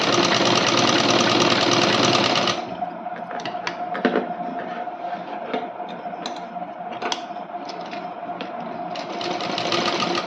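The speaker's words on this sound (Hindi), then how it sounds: "ये देखिए सीधी सीधी सिलाई हम लगा लेंगे।" A sewing machine stitches a straight seam on a blouse, with a loud dense whir for a couple of seconds, then quieter ticking and clicking of the mechanism as the fabric is handled.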